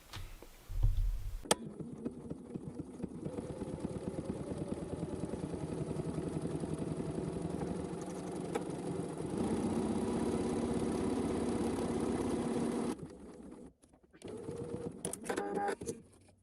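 A sewing machine runs steadily for about eleven seconds, stitching a knit buttonhole on knit fabric with a rapid mechanical whir, then stops, and a few short bursts of stitching follow.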